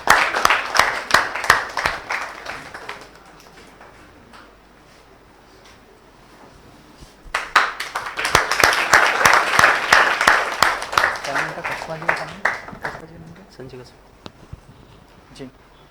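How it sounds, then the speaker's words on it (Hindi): Audience applause at a Hindi kavi sammelan poetry gathering, two bursts of crowd clapping separated by a quieter lull, with a voice speaking during the gaps. "सोनी के लिए एक बार जोरदार तालियां।"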